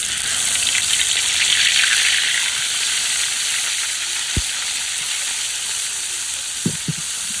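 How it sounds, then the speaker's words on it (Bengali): Fish sizzles steadily in hot oil in a village kitchen, a continuous loud frying hiss with a few brief knocks and clinks near the end, no voices. "তেলটা গরম হয়ে গেছে, মাছ দিয়ে দেই।"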